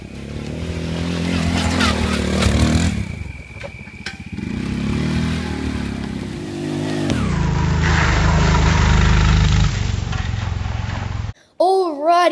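Dirt motorbike ridden through muddy woodland, its engine loud and close, revving and dropping in pitch as it moves, with a brief cut near the end.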